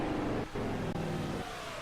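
A race car engine in a sim racing game at Las Vegas roars steadily at high revs, loud and close, with a brief dip in pitch as the car fails.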